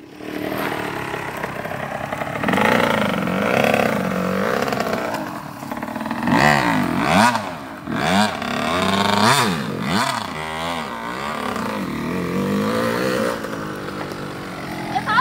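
A Suzuki RM two-stroke dirt bike revs hard and loud while the rider pulls a wheelie. The engine whines up and down in repeated surges, with the pitch rising and falling across the run before settling into a steadier drone.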